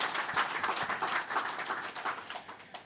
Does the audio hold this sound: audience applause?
yes